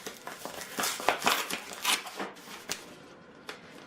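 Sticky paper tearing and crinkling up close, a series of short sharp rips and rustles in quick irregular bursts, loud at first and thinning out toward the end.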